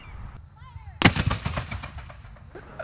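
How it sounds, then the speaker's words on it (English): A historic cannon fires during a demonstration at Fort Scott, one sharp loud boom followed by a rumbling echo that fades over a couple of seconds. "The last demonstration of the day was a cannon used to show the labor of the fort."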